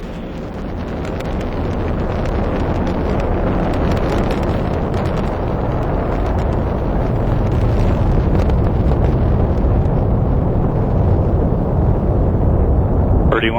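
An Atlas V rocket with its RD-180 engine roaring during launch ascent, a loud, dense, continuous rumbling roar with wind-like buffeting that holds steady throughout.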